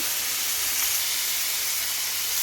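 Spice masala for a vegetarian carrot, potato and green pea curry fries in a pan after a splash of water is added, giving a steady, close, even hiss throughout with no voices.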